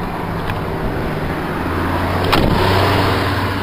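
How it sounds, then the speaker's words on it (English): A Volkswagen Jetta accelerating, its engine drone building steadily in a loud, continuous rumble with a brief sharp noise partway through. "That's my Jetta."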